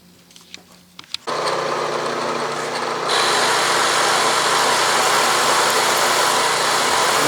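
A loud, steady whine of a four-flute end mill on a lathe milling attachment grinding into the workpiece, starting abruptly after some light clicks and growing harsher partway through.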